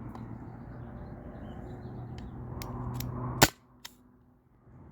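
Sharp, sudden pop from a Byrna SD CO2 launcher firing, a single loud close crack over a low hum, followed by a fainter click and quieter ticks.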